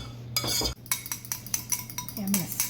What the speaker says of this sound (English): Now we're going to stir it good, and we're going to temper the eggs.